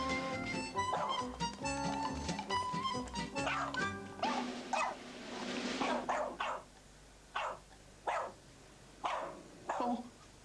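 A dog in a children's TV drama barks in a run of sharp, close barks with a few yips over a music bed that cuts out midway, leaving the barks more isolated and spaced toward the end.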